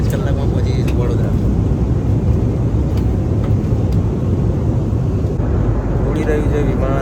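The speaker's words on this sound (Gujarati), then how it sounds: "ઉડી રહ્યું છે વિમાન" Steady broadband cabin roar of an airliner in flight on a Delhi to Vadodara trip, loud and continuous throughout, with faint clicks and brief cabin sounds on top.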